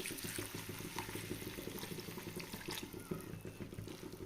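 Water pours into vegetables cooking in oil for a village-style black masala curry, a soft continuous splashing stream that stays faint and even throughout.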